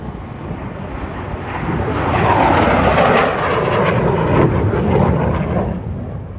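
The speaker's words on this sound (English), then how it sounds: "Get ready for an absolute adrenaline rush for the high-speed pass." MiG-17 jet fighter making a high-speed pass at an airshow, a loud rushing roar that builds, peaks and stays strong through the middle, then slowly fades as the aircraft passes.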